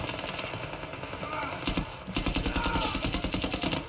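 Loud, continuous machine-gun fire in the Zero Caliber VR shooter game, a rattling stream of rapid shots that grows denser and louder in the second half, with a voice talking over it.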